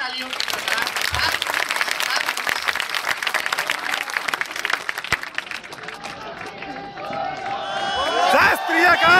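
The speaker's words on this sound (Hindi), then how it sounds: "मैं चाहता हूँ ये पूरा सदन एक बार जोरदार तालियों की गड़गड़ाहट के साथ" A large hall audience breaks into loud, dense applause for a poet on stage, sustained for several seconds before tapering as a voice and other sounds rise near the end.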